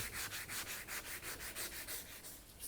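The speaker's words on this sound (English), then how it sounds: "with a bit of water and this sandpaper here, I'm just making the area" Wet sandpaper rubs over primer on the boot of a 1992 BMW 325i E36 in quick, even back-and-forth strokes, about five per second, close and soft, with no talking.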